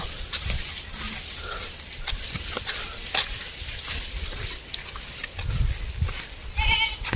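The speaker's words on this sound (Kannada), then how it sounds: "ಓ ಇಲ್ಲಿ ನೋಡಿ ಮೇಕೆಗಳು ಮ್ಯಾ ಮ್ಯಾ ಅಂತಾವೆ." Goats in a rural village setting bleat a few times amid farmyard background noise, the calls fairly faint and intermittent, with a clearer bleat near the end.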